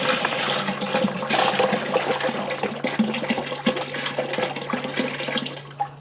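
Water gushes steadily into a hot liquor tank during a home brewing session for a New England IPA, a continuous splashing pour heard close up and alone for the whole stretch.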